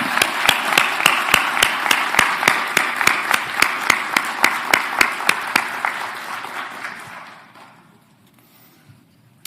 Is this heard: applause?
yes